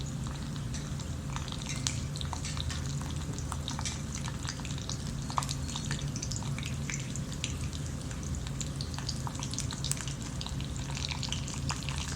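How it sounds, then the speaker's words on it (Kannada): Peanuts, urad dal and chana dal sauté in a hot pan, a dense steady crackle and rattle of small dry pieces with intermittent stirring scrapes, close and constant with no voices. "ಸೊ ಫ್ರೈ ಆಗೋ ತನಕ ಅದನ್ನು ಸಾಟೆ ಮಾಡ್ಕೋಬೇಕು"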